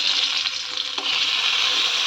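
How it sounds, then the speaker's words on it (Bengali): Continuous hissing sizzle of cauliflower and potato frying in oil, close and steady, with a brief scrape of a spatula partway through. "ফুলকপি আর আলুটা ভেজে নিচ্ছি"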